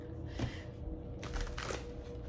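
Tarot cards shuffled by hand, a soft continuous riffling and sliding of the deck with faint low room hum, no voices.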